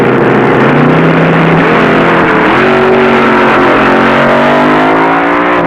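A 1972 drag racing dragster run at Amarillo Dragway, a loud, sustained engine roar with rising and shifting pitch as the car accelerates down the strip, filling the whole stretch without pause.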